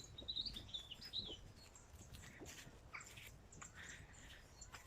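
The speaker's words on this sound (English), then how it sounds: "Some bird song will be louder, some quieter, some nearer, some further away." Birdsong heard outdoors on a country walk, faint high chirps and a few short phrases, some nearer and some more distant, over quiet outdoor background with no talking.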